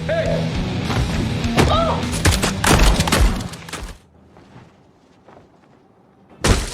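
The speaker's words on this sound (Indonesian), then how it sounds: "Deacon dan anak buahnya menembak dari bawah" Gunfire in a dramatic action movie scene, a dense burst of shots and thuds with some shouting over the first four seconds, then a quieter stretch before one more loud bang at the end.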